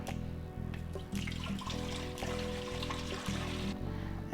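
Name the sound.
water running from a tap for cold brew tea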